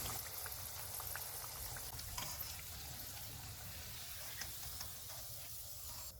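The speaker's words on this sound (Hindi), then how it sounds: "पकौड़े फ्राई हो गए हैं, इनको निकाल लेते हैं" Aloo palak pakoras frying in oil on a low-to-medium flame, giving a steady hissing sizzle with small crackles throughout, close and continuous with no talking.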